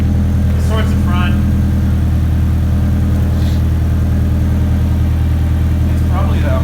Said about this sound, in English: There's an exhaust leak somewhere. You can hear it.